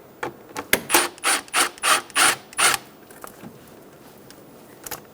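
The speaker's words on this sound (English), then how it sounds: "Using a 6mm socket, loosen the clamp on the intake." Ratchet wrench with a 6mm socket loosening the intake clamp on a 2000-2007 Ford Focus: a quick run of about seven evenly spaced rasping clicks, close and fairly loud, then a few faint taps.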